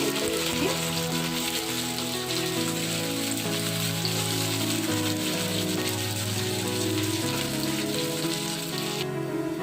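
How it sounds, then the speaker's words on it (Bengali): Chopped onions fry in hot oil with a dense, steady sizzling hiss that holds evenly throughout, loud and close, with a low tonal hum beneath and no talking. "পেঁয়াজগুলো দিয়ে দিলাম এবার পেঁয়াজটা লাল লাল করে"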